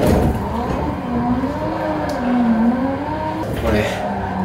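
A car drifting around Meihan Sportsland in a racing simulator game: a steady engine drone whose pitch rises and falls through the slide, with tire noise and a voice talking over it.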